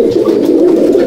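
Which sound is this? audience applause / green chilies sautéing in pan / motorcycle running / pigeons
pigeons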